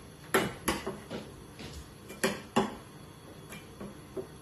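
Soya sauce and blossom honey being mixed in a bowl, with a series of sharp, close utensil clinks and taps against the dish in an uneven rhythm, some strokes in quick pairs.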